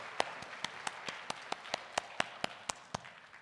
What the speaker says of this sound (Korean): 함께 박수로 영광 올려드리겠습니다.